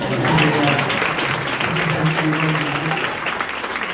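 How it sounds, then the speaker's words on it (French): A crowd at a women's event with the Canadian prime minister breaks into lively applause, close and dense clapping mixed with a few voices and cheers, fading slightly toward the end. "Oui, on peut les applaudir."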